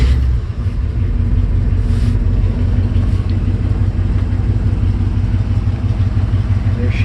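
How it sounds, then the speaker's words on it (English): A 1970 Chevrolet C10 pickup with a two-barrel carburetor idling high while warming up, a loud, steady low rumble with an even throb throughout, close to the listener. "It's got a little wired choke on that little 2-barrel carb, and it fires up. Nice high idle."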